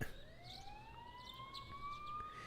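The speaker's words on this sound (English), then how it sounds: "You can hear sirens in the distance." Distant sirens in the video game Persona 4: a faint wailing siren tone slowly rising in pitch and holding steady across a quiet background, with brief chirps above.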